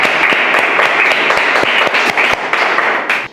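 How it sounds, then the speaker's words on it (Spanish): Loud, dense applause from a church congregation giving praise to God, a steady wash of many hands clapping with sharp individual claps standing out, fading slightly near the end. "Démosle un aplauso a Dios."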